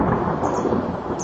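Thunder during a summer storm over Salamanca dehesa countryside, a deep continuous rumble that rolls loudly throughout, with rain hissing faintly beneath it and no voices.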